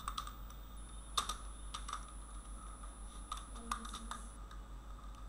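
Keys tapped on a computer keyboard in short, irregular bursts of quiet clicks over a faint steady hum, with no voices.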